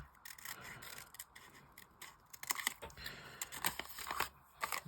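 Scissors snip through a paper belly band on a craft junk journal, with quiet close crisp cuts and light paper rustling, faint and irregular, without speech.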